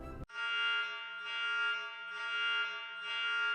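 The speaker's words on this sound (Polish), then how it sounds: "Alarm." A steady electronic alarm tone sounds continuously, loud and close, with a slow pulsing swell in volume after a brief click at the start.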